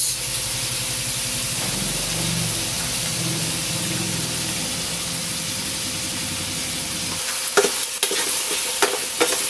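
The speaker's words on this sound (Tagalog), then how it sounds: "Haluin natin." Chicken in tomato sauce stirred in a pan, a loud steady hiss of frying throughout, with a few distinct scrapes and clatters of the utensil toward the end.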